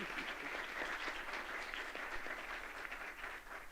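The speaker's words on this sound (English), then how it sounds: "One big round of applause for Santa Claus," An audience at a live 1940s-style radio Christmas show applauds Santa Claus, a continuous even roar of many hands clapping, heard at moderate, somewhat distant level.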